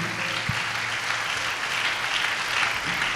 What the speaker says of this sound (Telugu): అందరూ చప్పట్లు కొట్టి దేవుని మహిమపరచండి గట్టిగా